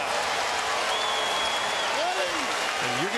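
A college basketball crowd at a 2014 NCAA slam dunk contest erupts in steady applause and cheering after a between-the-legs dunk, a broad dense roar under a commentator's voice.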